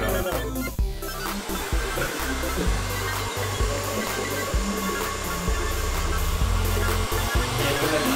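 A blow dryer drones steadily and loudly at close range throughout, its motor whine constant with slight fluctuations.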